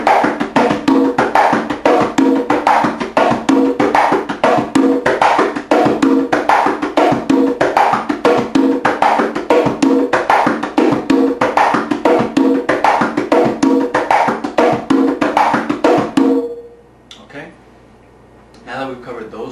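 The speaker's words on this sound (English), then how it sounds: "you can substitute the first open tone for a bass." Conga tumbao salsa pattern with a bass tone replacing the first open tone, steady repeated hand strokes on the drums played alone at close range, ending abruptly into near silence.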